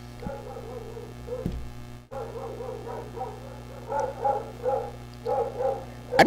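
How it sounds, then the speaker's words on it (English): Several dogs bark in a distant, repeated series, with a few spaced barks early on and clustered bursts later, heard faintly over a steady background hum with no talking. "I don't know if you guys can hear the dogs barking or not"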